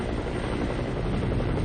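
A Red Cross helicopter in flight over southern Afghanistan, heard as a dense, continuous rotor and engine roar, loud and close, with no pause.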